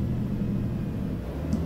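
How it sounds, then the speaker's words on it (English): Volvo truck engine brake in American Truck Simulator, a steady, low, muffled rumble that drones evenly throughout at a quiet level, with no talk. "I hear the engine brake in this Volvo"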